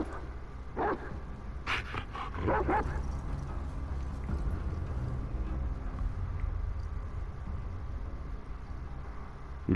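A dog in the video game The Last of Us Part II yips and whimpers in a few short bursts early on, over a low steady game ambience.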